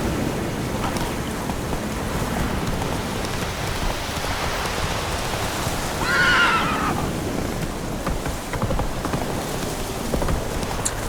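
Horse neighing in the video game The Witcher 3: Wild Hunt, one clear whinny partway through over steady rain pattering and faint hoof clip-clops, no talking.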